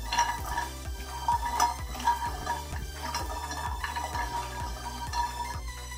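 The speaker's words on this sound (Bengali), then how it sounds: "বড়িটা দেওয়ার পরে বড়িগুলো কিন্তু খুব ভালোভাবে লাল করে আমি ভেজে নেব।" Lentil bori dumplings fry in hot oil in a pan, a steady close sizzle with rhythmic scraping and clicking of a spatula stirring them, no talk.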